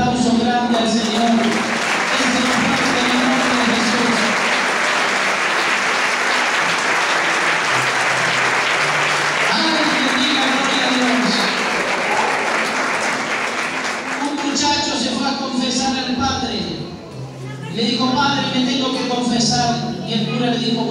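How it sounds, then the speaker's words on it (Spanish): A church congregation claps and cheers in a big sustained burst of applause that stays loud for about fourteen seconds, then trails off into scattered clapping that briefly returns. "Alguien déle un aplauso grande al Señor"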